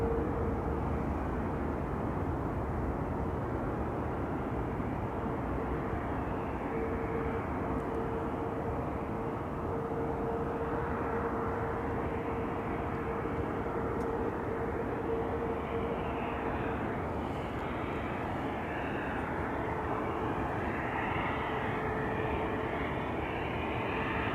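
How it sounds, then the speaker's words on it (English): An IndiGo airliner arriving from Mumbai at Schiphol Airport, a steady, fairly distant jet roar with a faint tonal whine that holds for the whole stretch with no voices. "Flight 21 from Indigo, arriving from Mumbai"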